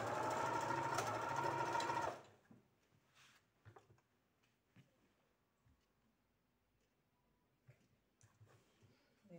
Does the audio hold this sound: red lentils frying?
no